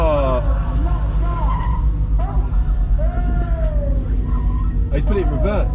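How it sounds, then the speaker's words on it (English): A car at a hypercar event, revving and moving briefly with tyre noise, heard up close under steady chatter and exclamations from onlookers. "He accidentally put it in reverse, that's annoying."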